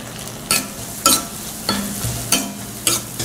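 Chopped large onion with cumin seeds frying in oil in a pan for masala pasta, a steady sizzle punctuated by five sharp scraping stirs of a spoon against the pan at roughly even intervals.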